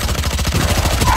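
Rapid gunfire in the shooter game Valorant, a steady stream of quick repeated shots at close range, loud and continuous with no voices over it.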